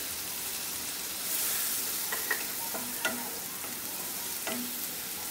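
Ginger-garlic paste and onion paste frying in a pan while being stirred: a constant close sizzle with several distinct scraping strokes of a spoon, no voices heard.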